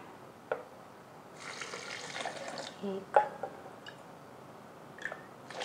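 About one and a half glasses of water poured for a homemade summer drink, heard as faint, intermittent splashes and trickles in a quiet room, with a few soft clinks.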